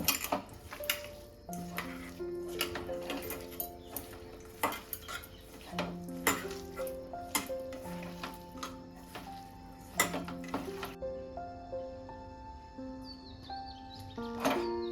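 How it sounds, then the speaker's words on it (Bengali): Pumpkin and coconut chop mixture is kneaded by hand in a bowl, giving soft squelches and scattered clinks under gentle background music. "দিয়ে আমি এটাকে ভালো করে মেখে নেব"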